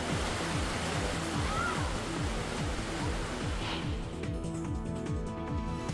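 Heavy monsoon rain and knee-deep floodwater in the market area of Trimbakeshwar, Nashik, make a loud, dense, steady rush, with a repeating rhythmic pulse underneath that fades slightly near the end.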